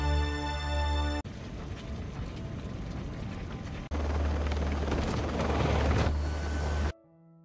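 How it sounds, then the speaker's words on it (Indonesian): Helicopter in the action film Extraction flying off, a loud steady rotor and engine roar that shifts in tone across cuts, then drops abruptly to near silence at the end. "Nick, Ovi, dan timnya naik ke helikopter lalu pergi"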